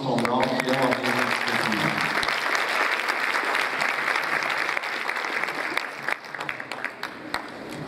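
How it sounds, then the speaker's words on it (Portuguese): An audience at an international lecture on chemical dependency applauds for speaker Tom Brown with loud sustained clapping, while a voice talks over the start before the applause thins into scattered claps at the end. "Uma grande salva de palmas para o Tom Brown"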